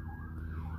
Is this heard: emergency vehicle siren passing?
yes